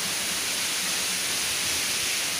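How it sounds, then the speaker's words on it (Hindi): Waterfall at Moti Jharna, a steady loud broadband rush of falling water filling the short stretch without a break. "पानी गिरते रहता है"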